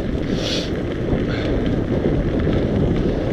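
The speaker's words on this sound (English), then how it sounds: "It's not harsh weather, it's just cold with a slight headwind" Wind buffeting the microphone while cycling outdoors in cold weather with a slight headwind, a continuous loud low rumble with no speech.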